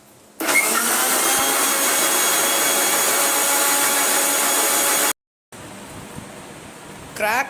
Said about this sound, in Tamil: நல்லா மிக்சர் ஜாரை ஓட்டினோம்னா சூப்பரான ஒரு மில்க் ஷேக் ரெடி ஆகிடும்